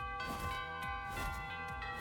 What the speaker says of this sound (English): wasn't that the alarm bells?